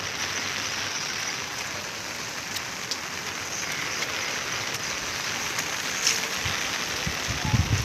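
Light rain patters steadily on surfaces nearby, a dense even hiss of drops with a few slightly louder splashes toward the end, no voices.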